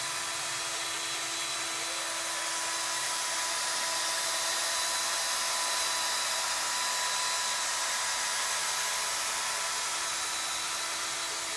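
Sanding wooden chair dowel spindles with a power sander gives a steady, even high hiss and whir that holds at constant loudness throughout, close up with no talking.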